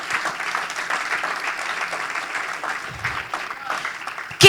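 A church congregation claps together in praise during a Spanish-language sermon, a dense, even patter that holds steady for several seconds and ends with a sudden loud hit.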